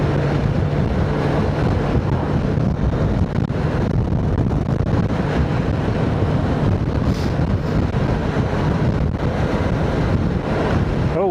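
Crosswind roars over a microphone on a moving motorcycle, a dense, unbroken rumble and rush of buffeting air that stays loud and steady throughout, with no talking.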